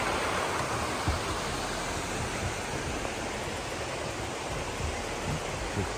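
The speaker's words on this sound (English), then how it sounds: "Got the other waterfall on the other side" Constant roaring wash of falling water from a waterfall at High Falls State Park, even and unbroken throughout with faint low bumps, nothing else over it.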